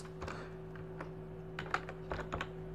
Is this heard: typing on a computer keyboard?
yes